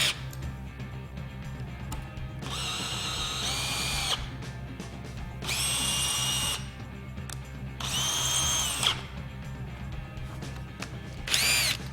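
A drill drives a GRK Caliburn pan head concrete screw, with four short, high-pitched whining bursts separated by brief pauses over a low background rumble, the last burst brief.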